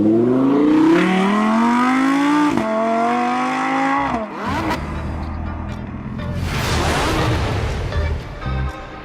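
An Audi R8 driving on Scottish roads, its engine rising in pitch through revs, dropping sharply at a gear change, then climbing again with rough, loud acceleration close by.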